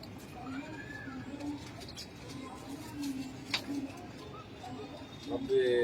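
Pigeons coo softly and repeatedly in a loft of pure-bred birds, a low murmuring texture running steadily under background sounds, with a brief sharper noise near the end.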